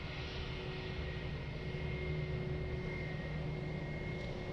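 An airliner fitted with a V2522 jet engine at Lisbon Airport, heard as a steady, even engine roar and rumble with a faint whine, continuous and at moderate distance throughout.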